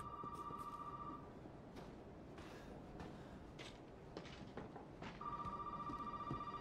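A telephone rings in the horror video game Resident Evil 7, a bright electronic trill heard in two bursts at the start and end. Between them there is a dim, noisy ambience with faint creaks and no talk.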